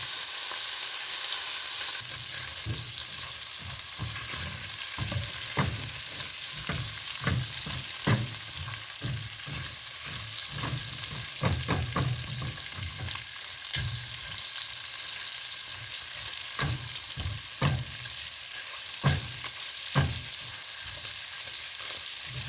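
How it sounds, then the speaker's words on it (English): Bacon fries in a pan with a steady, close crackling sizzle and frequent sharp pops and spits over the full stretch, with no talking. "So we're going to let the bacon cook."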